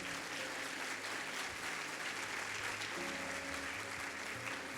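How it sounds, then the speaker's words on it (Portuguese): A church congregation applauds steadily through a Monday-night service, dense continuous clapping filling the room with a faint sustained musical tone underneath. "Aplauda o nome do Senhor"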